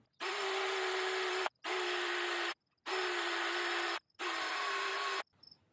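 An electric drill runs in four steady bursts of about a second each, separated by short pauses, loud and close with a constant whine and no talking; it is being used to repair and polish a firewood axe head.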